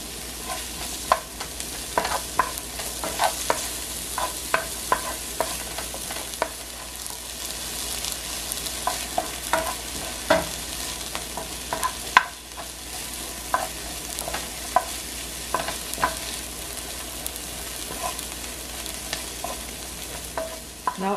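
Bell peppers and seasoning peppers sauté in a pan with a steady, soft sizzle, punctuated by frequent spoon scrapes and stirring clicks, close and alone.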